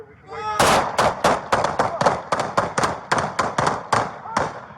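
A rapid volley of about a dozen loud gunshots rings out during a police encounter, sharp cracks spaced roughly a third of a second apart, with shouting voices mixed in.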